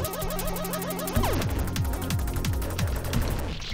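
Rapid synthetic gunfire in the video game I Wanna Defeat The Pixel crackles in a dense stream, with repeated sharp shots and mechanical clicks layered over electronic game tones, loud and continuous.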